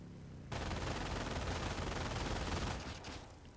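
Sustained machine gun fire in the Company of Heroes multiplayer game bursts in suddenly and rattles on loudly for about three seconds, then trails off.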